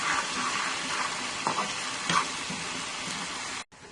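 Steady crackling sizzle of cumin frying golden in hot oil in a pan, close up, with a few soft stirring clicks before it cuts off abruptly.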